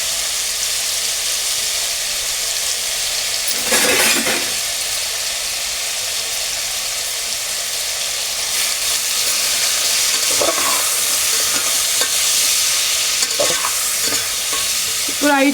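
Sambar base being stirred in a pot after adding turmeric and salt, a steady hissing sizzle throughout with a few brief scraping stirs of the spoon.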